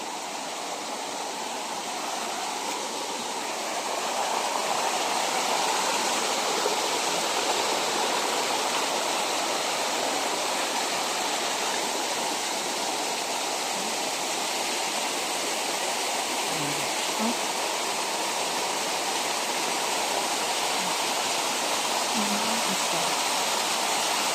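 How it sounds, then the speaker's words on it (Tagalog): Twin Falls in San Gonzalo, Labrador, Pangasinan, pours in a steady, loud, broadband rush of falling water that stays constant throughout, with no voices over it. "Ito yung Twin Falls kung isa doon kanina."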